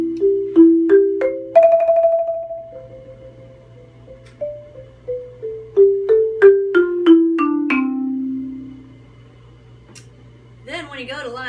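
Mallet instrument plays an all-county eighth-grade audition exercise line: a run of clear, ringing struck notes, a rising figure then a steady stepping sequence with a swelling crescendo of repeated strokes, close and alone, ending in a brief different tone.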